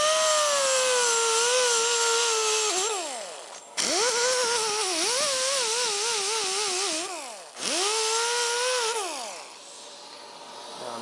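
A power tool fitted with an abrasive pad similar to red Scotch-Brite polishes aluminum, whining close and loud, its pitch dipping and rising under changing pressure across several passes.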